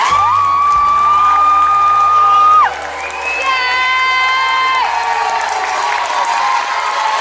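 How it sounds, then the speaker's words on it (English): A crowd at the 2019 Lake County Virtual School graduation in Florida cheers and applauds its graduates, with a broad wash of clapping and shouts under sustained, horn-like tones that shift pitch midway. "let us all give our 2019 Lake County Virtual School graduates a round of applause."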